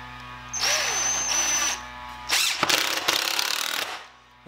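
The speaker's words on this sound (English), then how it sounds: "Now I'm putting the screws in about a half inch in from the edge of the wood." A power drill drives screws into wood for custom shutters, with two whirring bursts, the second ending in a strained, stuttering finish as the screw seats, separated by a brief pause.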